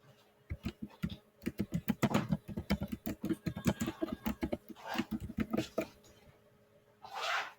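Keys clatter rapidly on a computer keyboard as a title is typed in, a close, dense run of clicks with brief pauses and a final burst.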